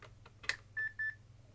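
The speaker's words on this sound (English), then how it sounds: "You can hear it kind of has a Roger beep" An Epson HX-20 laptop powering up: a faint click, then two short, bright electronic beeps in quick succession over a low steady hum in a quiet room.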